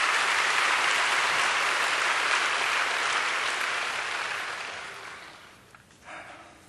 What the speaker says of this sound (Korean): 감사합니다 하는 마음으로 우리 박수로 우리 함께 모시겠습니다